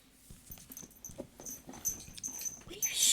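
A dog whines and whimpers softly nearby, short breathy, wheezy whimpers coming in irregular bursts that grow a little louder toward the end, with no talking over them.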